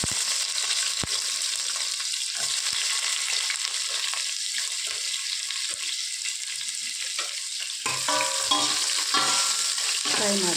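Onion fries in a pan of coconut oil and ghee with mustard seeds and curry leaves, a steady close hiss of sizzling with occasional crackles and a louder burst of spattering near the end, no voices.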